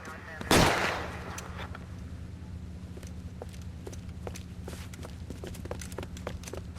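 A single loud gunshot bursts out in a film shootout, followed by a few faint scattered clicks and soft movement sounds over a low steady background hum.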